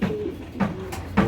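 A female shuttle racer pigeon at a pigeon farm coos close by, giving three low, evenly spaced coos in quick succession.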